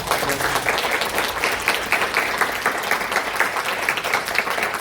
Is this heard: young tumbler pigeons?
no